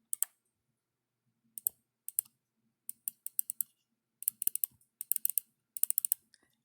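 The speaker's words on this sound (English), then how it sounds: "you can hear that click." A cheap mouse button clicks in quick, crisp bursts, single and clustered presses, close and isolated against near silence.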